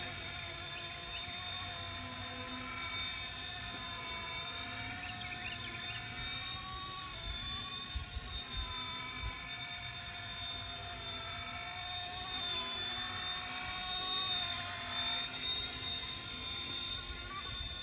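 An RC Era MD500 scale model helicopter on its maiden flight hums with a steady high-pitched rotor and motor whine, holding a constant drone at moderate distance throughout with slight swells.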